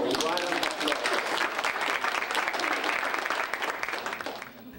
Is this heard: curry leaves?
no